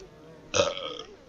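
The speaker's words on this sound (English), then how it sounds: "I feel like I'm gonna burp again." A single short burp erupts mid-clip in Lust Shards gameplay, fairly loud and close, with quiet background before and after.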